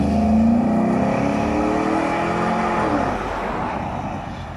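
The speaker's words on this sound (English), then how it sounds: "Triumph, I think a Triumph tag coming out here" A classic Triumph car pulls out at the Tewkesbury Classic Vehicle Festival 2021 with a steady engine drone that rises slightly in pitch, fairly close, then eases off as it moves away.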